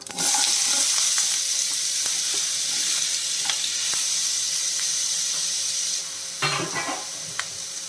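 Pumpkin pieces hit hot oil with mustard seeds in a pan and sizzle loudly and steadily up close, with a brief stirring clatter and a dip in the frying hiss toward the end.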